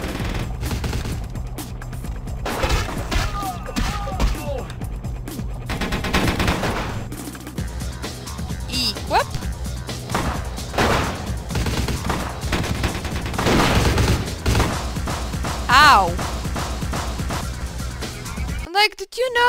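Gunfire rattles in the video game Vampire: The Masquerade – Bloodlines, with dense repeated shots layered under constant talking, game music and effects, and a louder burst near the end.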